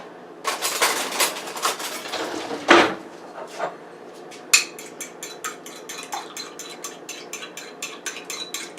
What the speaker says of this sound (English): I'm going to get a fork and mix that up